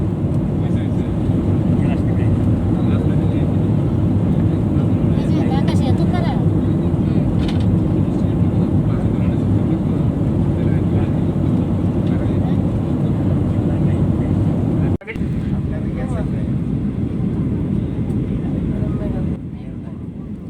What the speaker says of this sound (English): এখন আমাদের বিমান ল্যান্ড করবে।